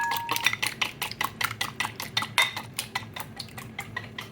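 A cracked egg being whisked in a bowl, quick rhythmic clicking strokes of a utensil against the bowl, close and fairly steady, with no talking.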